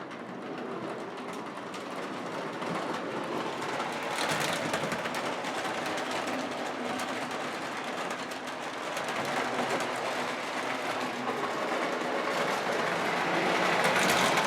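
A Lionel ALCO FA model train runs steadily on its track, a continuous close whirring motor hum with faint rhythmic clicking of wheels over rail joints, no talk, holding level throughout.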